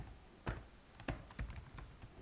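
Keystrokes on a computer keyboard while entering an SQL query, a handful of sharp separate clicks at an uneven typing pace, close and fairly quiet, with no talking.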